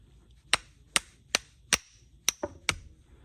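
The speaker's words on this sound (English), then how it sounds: "With a couple love taps from a hammer," Hammer taps on a Craftsman 1/4-inch ratchet during a rebuild, six sharp metallic strikes at a steady pace with one quick double hit, close and fairly loud, no talking.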